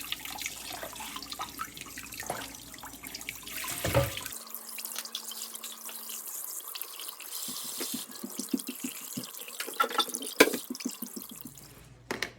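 Tap water runs and drips at a sink while whole trout are rinsed clean of blood, with a splashing gush early on followed by scattered close drips and trickles, and no talking.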